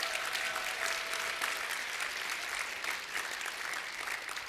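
A conference audience gives a round of applause for a saleswoman's first $1 million year, a steady, dense patter of many hands clapping in a hall, even in level throughout.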